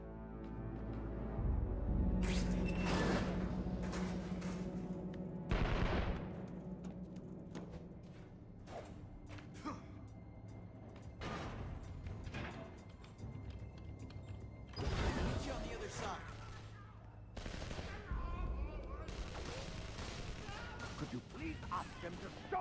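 Video game gunfire in a firefight, with sharp shots and bursts scattered throughout at varying distances, mixed with clanks and crashes and character voices talking between the volleys.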